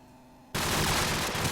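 Sudden burst of gunfire in an esports video game match, a loud abrupt blast that erupts after a quiet start and continues as dense, noisy shooting to the end.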